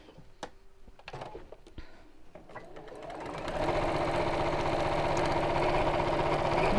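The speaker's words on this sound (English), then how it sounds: "so just going to sew just along one side" A sewing machine stitches along one side of a quilted pouch seam with deep wadding, starting with a few scattered clicks and handling noises before settling into a steady, close, rapid stitching run for the last few seconds.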